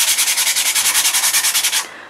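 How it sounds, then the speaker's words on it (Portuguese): Wet sandpaper rubbed back and forth over a piece to smooth it, about fifteen rapid even strokes close up, then stopping. "Nós vamos pegar a nossa lixa d'água e vamos lixar toda essa peça para que ela fique bem lisinha"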